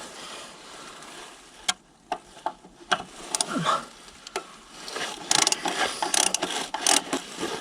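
A ratchet wrench loosening a car starter, clicking in short irregular bursts of pawl ticks close to the listener, with clanks and scrapes of the tool against metal.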